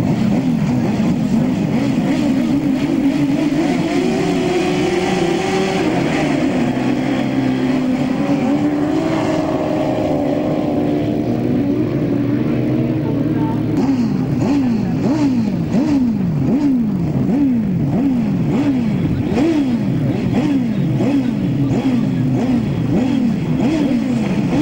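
Grasstrack sidecar motorcycles leaving the start of a 1999 Grand Slam race, several engines howling loud and close, then repeated rising and falling revs as the outfits power through the bends, with no talk over them.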